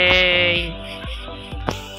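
A Minecraft sheep bleats with a wavering cry, close and clear, over a few soft game clicks and thumps.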